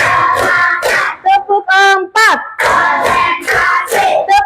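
In a classroom ice-breaking game, children chant a counting rhythm in unison and clap in short, loud bursts between the chanted phrases.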